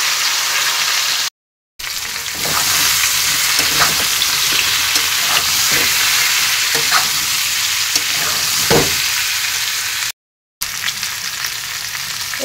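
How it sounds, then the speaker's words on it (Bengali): Potatoes fry in leftover fish-frying oil in a wok, making a loud, continuous, close sizzle with bubbling crackle and occasional stirring scrapes throughout, briefly cut by two short gaps of silence. "যে মাছ ভাজার তেলটা ছিল সেই তেলের মধ্যেই আলুটাকে আমি ভেজে নিচ্ছি।"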